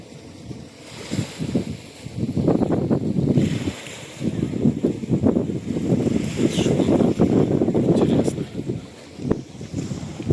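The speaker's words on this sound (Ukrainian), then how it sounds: "баржа якось підпливає" Barge approaching on the sea near Odesa, heard outdoors as a low rumbling engine mixed with wind buffeting the microphone and lapping waves, irregular and fairly near.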